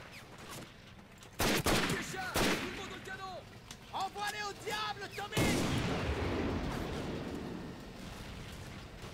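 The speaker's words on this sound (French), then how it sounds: "ça c'est un canon anti-char par contre." An anti-tank gun fires in the World War II shooter Medal of Honor: Pacific Assault on Guadalcanal, loud booming blasts and battle noise in bursts with a heavy rumbling impact near the end.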